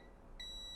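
A multimeter in continuity mode beeps while a diode on a mobile phone circuit board is tested, one probe on the shield ground: a single steady high-pitched tone starts partway through and holds to the end, clear over quiet background.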